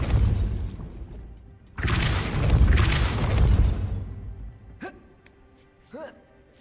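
Spell effects in the video game Hogwarts Legacy, with a Depulso blast among them: a heavy whooshing burst and crash, followed by short magical chimes and zaps. A voice calls out spell names over the effects.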